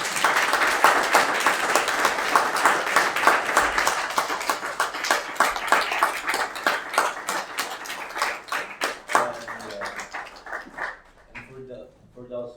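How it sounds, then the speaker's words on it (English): Lecture audience gives a round of applause, a dense clatter of clapping that thins into scattered claps and dies out, with a few voices heard near the end. "I suggest we will give Professor Moorhouse a big round of applause."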